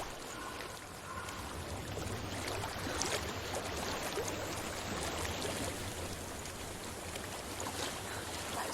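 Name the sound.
flowing water in video game Hellblade: Senua's Sacrifice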